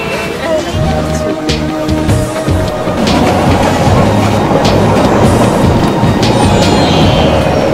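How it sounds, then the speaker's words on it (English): A passenger train in Indonesia bound for Yogyakarta rumbles steadily with rhythmic wheel clatter, loud and close from inside a carriage, the noise continuous throughout with no clear speech. "The train ride to the kingdom of Jakarta, or Joja as the Indonesians call it."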